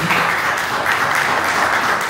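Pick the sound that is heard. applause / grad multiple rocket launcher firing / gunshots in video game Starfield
applause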